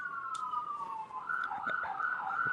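An emergency vehicle siren wails steadily at moderate distance, its tone sliding and warbling as it passes, with faint background noise.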